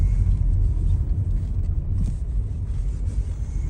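A car drives along a road in Kremenchuk, heard from inside as a steady, loud low rumble of engine and tyres, continuous throughout.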